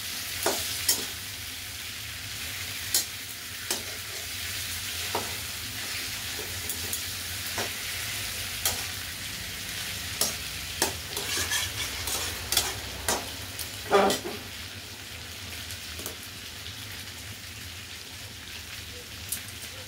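A sole fish head fries in a pan, giving a steady crackling sizzle throughout with occasional sharper pops and stirring clicks, fairly quiet and with no talking.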